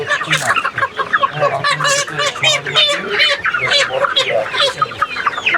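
Several chickens at a busy market cluck and squawk close by in dense, overlapping bursts, with people talking underneath.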